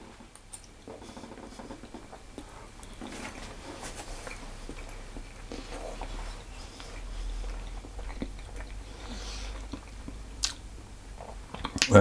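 Close, steady mouth sounds of someone chewing a chocolate and almond Battenburg cake with marzipan and apricot jam: soft, moist squishing and small crunches continuing throughout with no talking.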